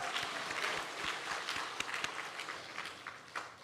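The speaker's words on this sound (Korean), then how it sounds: "우리 하나님께 영광의 박수 한번 드리도록 하겠습니다" A church congregation at a Friday prayer service claps together, a dense, moderately distant patter of many hands with sharper individual claps standing out, fading slightly toward the end.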